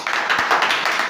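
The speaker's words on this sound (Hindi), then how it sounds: "इनके लिए एक जोरदार ताली" An audience claps for a guest at a talk session on addiction, a short steady patter of many hands filling the room, with no voice over it.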